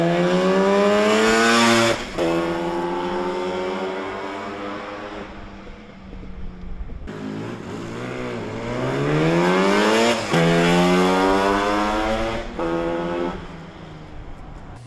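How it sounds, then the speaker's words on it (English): A 1979 Yamaha RD400 Daytona Special two-stroke motorcycle revs up through the gears on a road ride, pitch climbing and falling in repeated loud sweeps with brief drops between shifts. "I just got back from the test ride on this bike."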